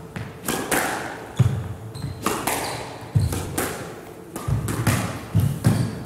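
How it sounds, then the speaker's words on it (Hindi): A women's quarter-final at the Karachi Open Squash Championship 2022 features a volley drop shot, with sharp ball strikes and thuds off the walls of a reverberant court, several hits in quick succession. "ओ बड़ी खूबसूरत वॉली ड्रॉप शॉट नूर का"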